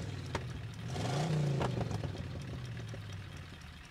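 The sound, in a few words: car engine sound in a vehicle battle royale video game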